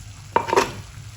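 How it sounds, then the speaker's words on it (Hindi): Potatoes drop into a pan of frying bitter gourd and onions, a brief close clatter and burst of sizzle that quickly settles back to a low background hiss, with no talk. "अब यहाँ पे मैं आलू डाल दूंगी"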